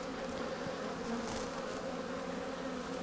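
Honeybees buzzing around an open hive during a colony inspection, a steady, faint droning hum that stays even and continuous without pause.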